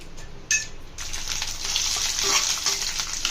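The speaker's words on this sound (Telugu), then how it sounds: "ఆయిల్ బాగా హీట్ ఎక్కిన తర్వాత మనం ముందుగా కట్ చేసి పెట్టుకున్న కాకరకాయల్ని యాడ్ చేసుకుంటాను" Cut bitter gourd pieces drop into hot oil with a sudden splash, then a loud, steady frying sizzle with light stirring continues close by.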